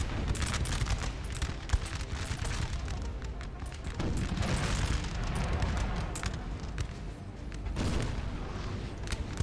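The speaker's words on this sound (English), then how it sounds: "Where is that Russian artillery firing?" Russian artillery firing in the Napoleon Total War battle game, a dense, continuous barrage of booming cannon shots and crackling gunfire rolling on without pause, loud and near.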